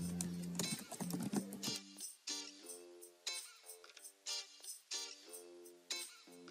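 Quiet keystrokes tap on a computer keyboard in short, irregular bursts with brief pauses between them, with no talking.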